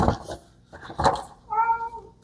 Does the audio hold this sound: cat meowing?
yes